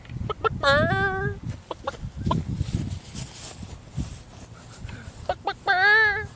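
Chickens cluck and let out two loud squawking calls, one near the start and one near the end, with softer clucks and faint voices in between.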